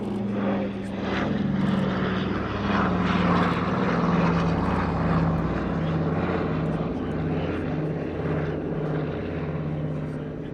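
A Douglas Dakota propeller aircraft flies past at an air show, its steady droning engine hum loud and continuous throughout, swelling slightly mid-pass with no talk over it.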